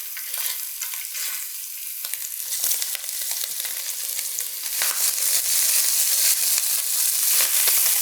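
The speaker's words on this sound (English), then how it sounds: "We're going to brown this. We're not going to cook it all the way through, but we want to get it browning" Sausage browns in a hot pan, a dense continuous sizzle that swells louder in the second half, scattered with sharp crackles and stirring scrapes, close up and with no talking.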